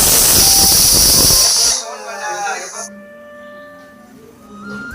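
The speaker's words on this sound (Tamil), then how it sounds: "ஒரு விசில் போட்டால் போதும்." A pressure cooker cooking egg biryani lets out a loud, close steam hiss for about a second and a half, then cuts off abruptly, leaving quieter tonal ringing behind.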